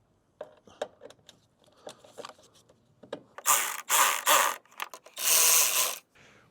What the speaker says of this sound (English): Now it's time to screw the headlight back in.